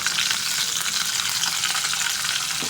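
Curry leaves, dried chillies and asafoetida sizzle in hot oil, a loud, dense, continuous crackle with no voices over it.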